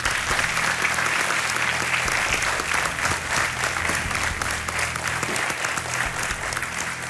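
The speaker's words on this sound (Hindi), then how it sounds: "तालियों के साथ आपका स्वागत" Dense, loud studio audience applause on the KBC quiz show welcoming a contestant's helper onto the set, continuous and even throughout with a low hum beneath it.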